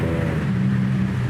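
A 1956 Chevy 210 engine drones loudly and steadily, its low hum rising slightly in pitch as it accelerates, close by with no voices.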